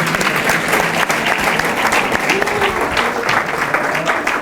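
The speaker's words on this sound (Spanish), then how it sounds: "Un aplauso, perdón." Audience applause at a university employment conference, steady dense clapping from a crowd filling the whole stretch without pause.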